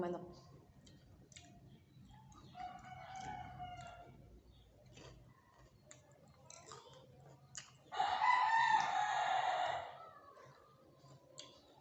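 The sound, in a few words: rooster crowing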